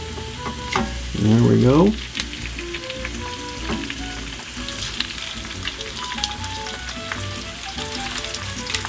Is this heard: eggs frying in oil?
yes